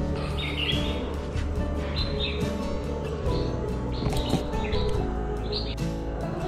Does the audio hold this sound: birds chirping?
yes